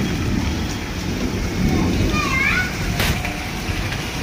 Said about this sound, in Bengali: দেখো কীরকম বৃষ্টি শুরু হয়ে গেল, বৃষ্টিটা বাড়ছে।